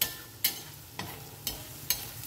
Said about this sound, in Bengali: ভালো করে রসুন শুকনো লঙ্কা কালো জিরা আর কাঁচা লঙ্কাটা আমি ভেজে নেব